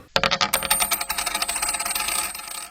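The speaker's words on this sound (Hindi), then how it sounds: "And that is the coin flip." A single coin is flipped and lands, giving a bright metallic ring followed by a fast series of rattling bounces that settle and fade over about two seconds, close and loud with no talk.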